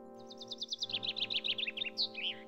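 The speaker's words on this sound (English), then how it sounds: "How sweet the bird's song is." Songbird chirps in the video game The Gene Machine: a rapid, evenly spaced run of high tweets, then looser warbling notes, heard clearly over a steady low musical drone.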